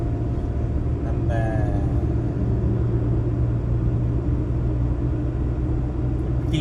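A Maruti Alto small car cruising along a road, its steady low engine rumble and tyre drone continuous and close throughout, with a brief faint whine early on.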